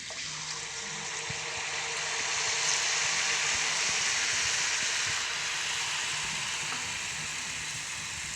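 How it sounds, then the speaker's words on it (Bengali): Pitha batter fries in hot oil in an iron wok, giving a steady, close sizzle and bubbling hiss that swells slightly midway and continues without talk. "আমি চুলোয় একটা লোহার কড়াই দিয়েছি, দিয়ে তার সাথে তেল দিয়েছি। এখন আমি এটা পিঠাটার মধ্যে দিয়ে দেব।"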